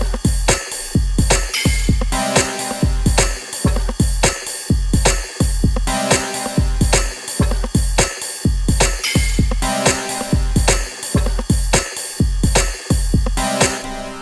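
Looped synth power chords ride on top of a steady electronic beat, with punchy low kicks recurring in an even rhythm throughout; loud, dense and continuous with no voices.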